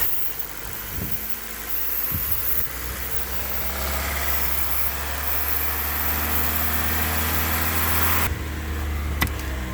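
Ford Focus engine, 1.6L or 2.0L, holds a steady idle during induction cleaning, a constant close drone with low vibration, a few faint clicks, and a brief shift near the end.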